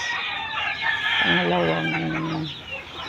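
Chickens in a poultry pen on a small farm cluck and a rooster crows partway through, close and moderately loud, with a person talking briefly over them.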